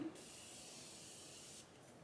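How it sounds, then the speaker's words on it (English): Setting spray mists onto a face in one steady, soft hiss lasting about a second and a half, heard close and alone. "And I'm gonna spray."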